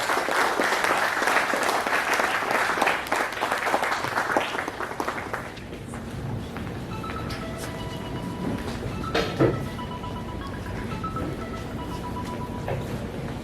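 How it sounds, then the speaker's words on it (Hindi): Enthusiastic applause from an audience at a lecture hall event, loud dense clapping for about five seconds that then fades into quieter room noise with scattered sounds. "एक बार पुनः आपकी जोरदार तालियां दीजिए"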